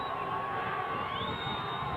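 A high school football crowd cheers and shouts at a Manhattan High versus Wichita Northwest sectional playoff game after a turnover on downs, a dense, steady roar of voices with whoops throughout.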